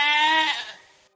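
A goat gives a single drawn-out bleat, loud and close, wavering and then fading out within about a second with no other sound around it.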